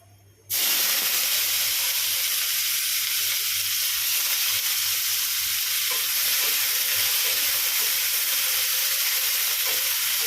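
Onions fry in hot oil in a kadai to make beresta, giving a loud, steady sizzle that bursts in suddenly and holds an even, dense hiss close by, with no talking.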